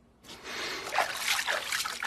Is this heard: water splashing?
yes